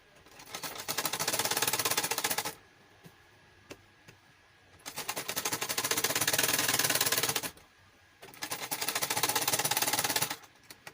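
A sewing machine stitches a pinafore flare gown in three long bursts of rapid, even chattering, with short quiet gaps and faint clicks between runs.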